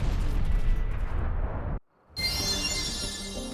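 Explosions in the video game Xenoblade Chronicles X come as a heavy, rumbling roar of blasts that cuts out to near silence for a moment, then bursts back with dense booming and crackle.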